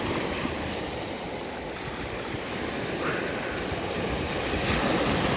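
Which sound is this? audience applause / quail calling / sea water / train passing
sea water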